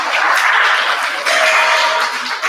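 Applause fills a sixth grade school awards assembly as the audience claps loudly and continuously, with a brief dip midway before the clapping swells again.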